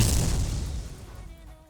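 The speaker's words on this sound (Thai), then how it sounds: "เดี๋ยวง้างระเบิดนิวเคลียร์เราเลย" A loud, deep nuclear bomb explosion in the video game XSHOT, booming and fading into a low rumble over a second or two.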